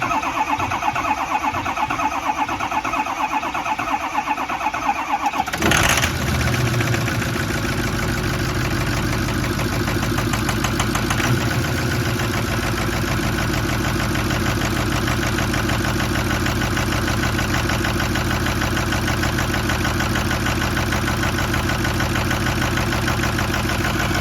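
A 6.0L dually truck engine with an empty fuel system cranks briefly, then catches about five seconds in and settles into a loud, steady, rough idle that runs on without a break.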